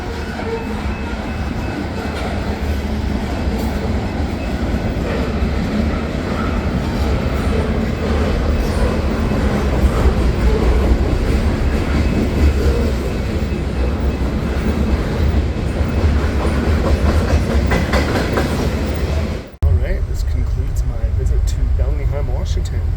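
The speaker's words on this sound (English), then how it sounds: "And that is the train I'm going to be catching here" A passenger train bound for Vancouver rumbles past close by in Washington, a loud, continuous roar with a clattering undertone that holds steady before a brief dip near the end.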